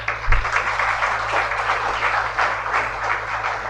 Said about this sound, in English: I want a huge applause for them